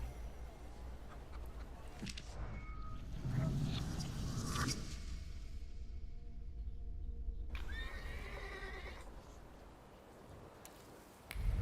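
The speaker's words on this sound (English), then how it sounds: "I meant to take the horse out for a ride, so get on" In a video game, a horse whinnies loudly and hooves clop nearby, followed by a quieter stretch of ambient noise and more hoofbeats near the end.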